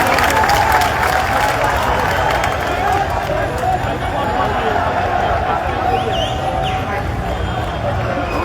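A crowd at a BNP solidarity meeting in Bangladesh, held for the international day of the disappeared, claps in a dense, sustained wash of applause mixed with murmuring voices and hall noise.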